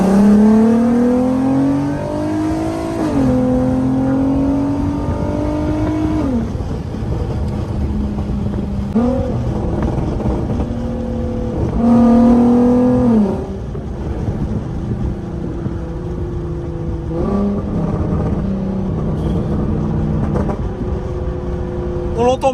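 A 3.2-litre car engine revs repeatedly, rising and falling in pitch through several loud pulls, with people talking over and between the revs.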